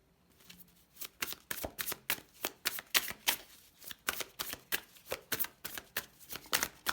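Tarot cards are shuffled close up in a quick, rhythmic series of soft riffling bursts, about two per second, with no talking.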